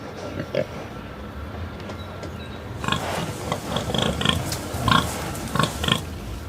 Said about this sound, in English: I choose pig. Then I make a recording.